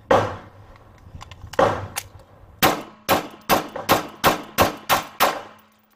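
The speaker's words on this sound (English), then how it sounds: "We have a 9mm gun." Nine sharp 9mm handgun shots ring out against an armored glass window, two spaced shots followed by a fast, evenly paced string of seven, each a loud metallic crack with a short ringing tail.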